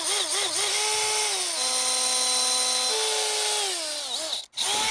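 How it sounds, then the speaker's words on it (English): A power drill bores a screw hole straight through a red oak revolver grip, with a loud whining motor whose pitch sags and rises under load. It bites through the wood and ends in a brief thump as the bit breaks out. "we'll drill all the way through with this one"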